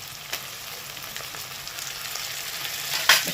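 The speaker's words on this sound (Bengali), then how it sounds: "এবার দিয়ে দেবো চিংড়ি মাছ ভাজাটা" Fried prawns dropped into a pan of hot oil with turmeric, coriander, cumin and chilli powders, giving a steady close sizzle with a sharper crackling burst near the end and no talking.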